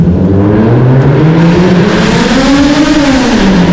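A Toyota Mark X with a custom quad exhaust revs loudly and close, the engine note climbing and falling in a sweeping blip with a deep, raspy exhaust tone and no talking.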